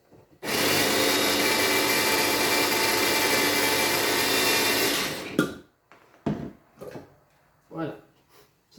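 An electric chopper whirs loudly as it minces parsley for a homemade tomato sauce. It runs as one continuous burst of about five seconds and then stops, followed by a few short clatters and some speech.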